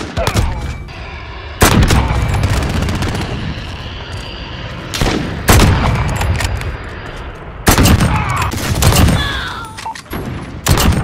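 Rapid sniper and automatic gunfire in the Modern Warfare video game, with loud repeated bursts and booming shots spaced every few seconds over continuous battle noise.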